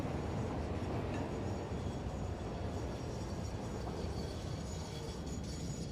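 Trains rolling in a factory-building video game, a steady dense rumble of rail cars continuing without a break, fairly loud and close throughout.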